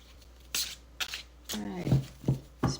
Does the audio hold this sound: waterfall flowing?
no